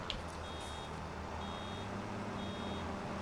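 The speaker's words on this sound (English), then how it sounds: "I just need to pay more attention to the beeping" Reversing beeps from a farm vehicle in Farming Simulator 25, three evenly spaced tones over a steady low engine hum, with no talk.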